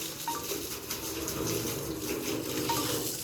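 Water poured over a mare's ears makes a steady, close splashing and running-water sound that continues evenly throughout, with no one talking.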